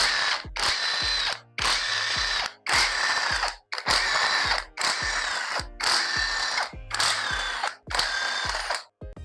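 A power tool whirs in about eight repeated bursts separated by short pauses while bolts come off the top cover of a Toyota 3ZZ engine being stripped; close and loud, with no talking.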